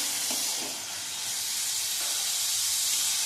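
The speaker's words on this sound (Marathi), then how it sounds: "कांदा छान गुलाबीसर होईपर्यंत परतून घ्यायचा." Onions sauté in a pan until pinkish, giving a steady, close hiss of frying that barely changes in level throughout, with no voices over it.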